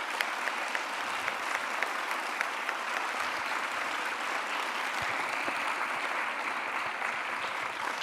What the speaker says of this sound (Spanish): De nuevo, un gran aplauso.